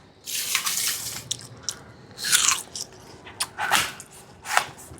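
A young child is biting into poha up close, making crisp crunches and moist chewing in uneven bursts over a quiet background, with no talking.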